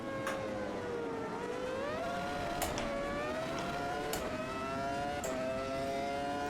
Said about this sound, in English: I do love that sort of dirty, messy traction control sound